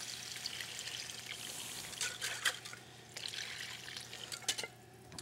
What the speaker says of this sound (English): Now I'm gonna add, here is that stock.